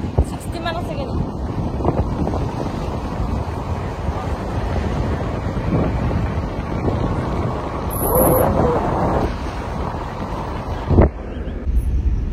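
Steady, loud wind buffeting the microphone while riding along a monsoon road trip in Arunachal Pradesh's Dibang Valley, a continuous rushing roar with a brief gust surge near the end, with voices talking over it.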